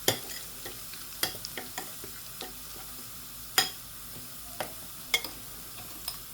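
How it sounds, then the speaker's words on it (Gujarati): Spoon stirring masala spices into ginger and garlic frying in a pan for a ridge gourd (turiya) curry: a low sizzle with sparse, distinct scraping clicks and taps, close and alone. "હવે આપણે મસાલો એડ કરી દેવાનો છે."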